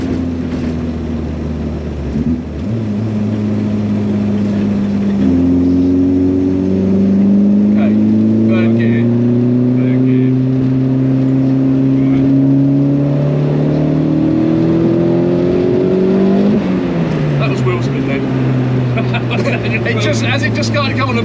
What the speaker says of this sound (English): As it just started to come on the boost, it started to spin the tyres.